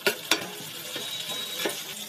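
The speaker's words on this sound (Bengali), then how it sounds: "হালকা করে এইভাবে সব কিছু ভাজা ভাজা করে নিতে হবে।" Chopped onion and tomato with cumin seeds and green chilli fry in a pan, giving a steady close sizzle broken by a few sharp scraping stirs of the spatula, with no one talking.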